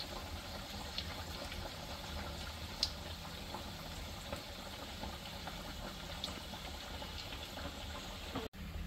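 Sabudana vadas fry in hot oil over a medium-to-high flame, giving a steady, soft sizzling hiss with faint crackles and occasional small pops, continuous and unbroken throughout.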